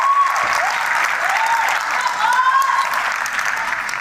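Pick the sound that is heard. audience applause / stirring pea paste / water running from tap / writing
audience applause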